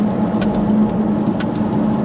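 Jaguar F-Type R P550 AWD with a supercharged V8 holds a steady, loud, close engine and exhaust drone at constant revs, with two brief higher-pitched bursts on top.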